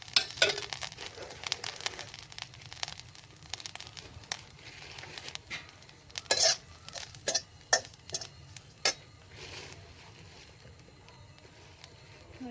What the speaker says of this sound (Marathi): थोडस तेल टाकून आता आपल्याला खोबरं भाजून घ्यायचं आहे